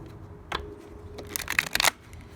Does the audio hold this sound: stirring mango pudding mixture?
no